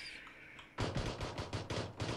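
Rapid gunfire rings out in PUBG as a quick burst of about seven evenly spaced shots follows a quiet lead-in, fairly faint and somewhat distant, with no talking.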